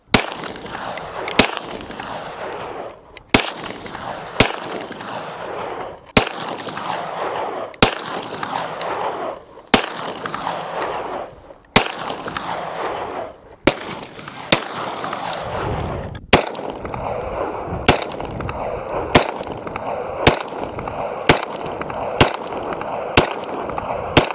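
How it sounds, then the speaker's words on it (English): A Glock 40 Gen 4 10mm pistol fires in the Arizona desert, about fifteen sharp, loud shots spaced irregularly, with the later shots coming faster, each followed by a short open-air decay. "this Glock 40 Gen 4, not too much kick"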